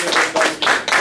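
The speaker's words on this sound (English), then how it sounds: "Give them a round of applause, ladies and gentlemen." A live audience claps in a brief, dense burst at a political comedy game show, the noisy applause swelling and dipping in quick waves for about a second.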